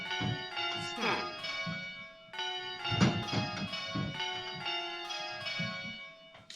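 Tower bells sounded through a ringing simulator strike one after another in a steady change-ringing rhythm, with their bright metallic tones overlapping and ringing on between strikes.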